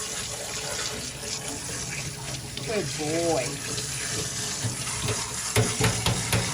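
Water running from a tap while a dog is rinsed at a groomer's, a steady splashing flow close by with someone talking softly and a dog whining briefly.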